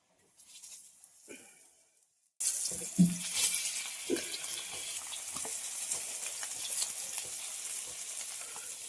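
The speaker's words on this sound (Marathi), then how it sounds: "चुलीवरची मच्छी फ्राय." Bangda mackerel fries on a tawa over a wood-fired chulha: after a near-silent start with faint rustles, a loud, steady sizzle bursts in and continues, flecked with small crackles and pops.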